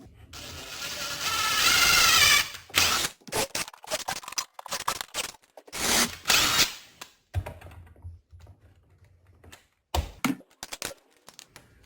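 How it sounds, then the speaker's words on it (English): A power drill with a countersinking bit bores into a wooden board while building a gun closet, giving bursts of loud high-pitched whirring and grinding broken by pauses, with small handling knocks and clatter between the runs. "All I'm doing is taking my drill and putting this countersinking drill bit"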